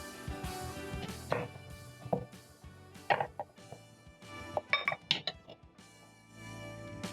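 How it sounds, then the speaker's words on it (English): A sharp knife cuts through an onion on a kitchen board, giving a few crisp, irregular cutting and tapping sounds close up with light clinks and no talk. "I'm going to use a sharp knife and cut my onion in half."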